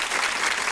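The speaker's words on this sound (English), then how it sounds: "Erica, I need you to bring us in with those claps again" A group of people claps in a dense, continuous burst of applause lasting under a second, fairly loud and close, with no voices.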